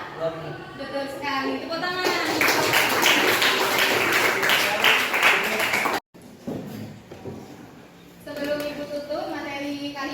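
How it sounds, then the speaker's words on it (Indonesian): Classmates clap in a classroom during a lesson: a loud, dense round of hand clapping lasting a few seconds, with a teacher's and students' voices heard before and after it. "Betul sekali, tepuk tangan."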